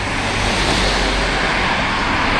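Continuous roar of traffic on a busy main road near Coundon and Bishop Auckland in County Durham, a loud steady wash of passing vehicles with no pauses and no voices.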